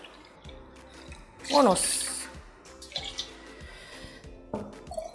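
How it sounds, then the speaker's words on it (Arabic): Warm water poured into a cup for pizza dough, a short splashing pour of about a second, close and fairly loud, with someone talking before and after it in a home kitchen. "هضيف لها كوبايه ونص من الميه الدافيه"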